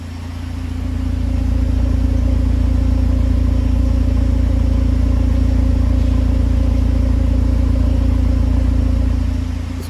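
A VW Gol G6 engine runs with a slight misfire, giving a loud, close, steady low rumble with a faint uneven stumble, continuous for the full ten seconds with no talking.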